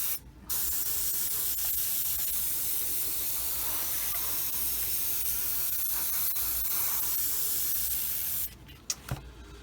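Airbrush spraying paint on a Tamiya 1/35 scale Sd.Kfz. armored car model, a steady close hiss of air and paint lasting about eight seconds, then stopping with a few short bursts.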